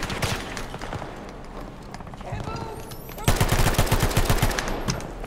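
Rapid bursts of automatic gunfire from a gun in a first-person shooter game, loud and dense, breaking into a sharp sustained volley of close rattling shots near the end.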